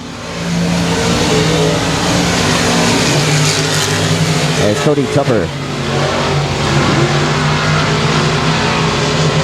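Limited modified race cars roar around the Sabine Speedway oval, engines loud and sustained as they rev and pass close by, with a commentator talking over the constant engine noise.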